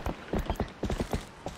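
The horse Epona's hooves clip-clop in The Legend of Zelda: Twilight Princess HD, with a quick, uneven run of sharp, moderately loud hoof knocks.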